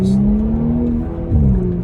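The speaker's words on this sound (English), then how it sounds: "I like this exhaust sound, man. It's just very subtle on the car." An Audi S5 Sportback accelerates with a subtle, low exhaust drone, smooth and steady from inside the car, swelling slightly near the end as revs climb.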